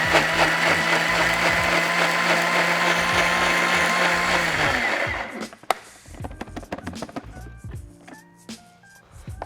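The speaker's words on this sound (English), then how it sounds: "So turn the blender on," A blender runs hard and loud for about five seconds, blitzing grilled tomato, capsicum and cucumber into gazpacho, then cuts off, leaving scattered clinks and small handling sounds.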